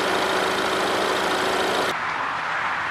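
A Ford Explorer's 2.3-liter inline-four engine running steadily, heard up close as a constant, dense mechanical drone with no talk.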